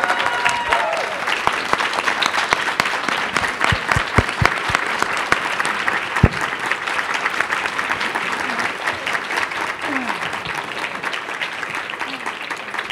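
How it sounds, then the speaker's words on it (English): Audience applause for panelists at an LGBTQ leaders conference, sustained and fairly loud for about thirteen seconds, with individual sharp claps standing out against the dense clapping and a few faint voices. "A round of applause for the panelists."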